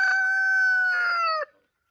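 A single rooster crow rings out close and loud, a long harmonic call that holds steady then breaks off abruptly.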